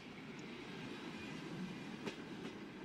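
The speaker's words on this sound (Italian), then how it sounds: "Madre e figlia stanno per arrivare con il treno per la prima volta a Trieste" Train arriving at Trieste, a steady low rumble of railway cars rolling with a faint rhythmic clatter and a brief sharp click near the end, heard without talk.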